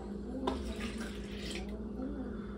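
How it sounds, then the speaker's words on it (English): A cup of water poured into a mixing bowl for Appalachian-style apple pie dough, a steady faint trickle and splash running for a couple of seconds at close range. "We're gonna add a cup of water,"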